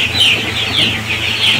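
Chickens cluck in a village poultry coop during cleaning, a steady overlapping chorus of close, fairly loud calls repeating in short bursts over a constant low hum.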